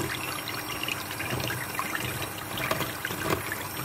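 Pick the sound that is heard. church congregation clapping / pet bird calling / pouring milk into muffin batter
pouring milk into muffin batter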